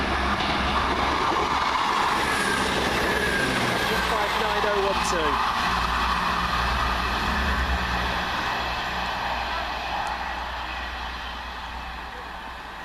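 A South West Trains train passing through a station, a loud continuous rumble of wheels and carriages with rail clatter, gradually fading toward the end.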